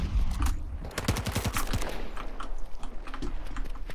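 Rapid automatic gunfire rattles in Battlefield 2042 multiplayer, with a tight burst of shots up front followed by scattered firing in a busy game mix.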